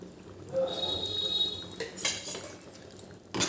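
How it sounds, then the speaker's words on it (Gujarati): A spoon stirring cowpea gravy curry in a pot, with fenugreek leaves just added, gives a few soft scrapes and clinks of utensil against metal, close and fairly quiet over low background noise. "હવે એક વખત આવી રીતે હલાવી લઈશું"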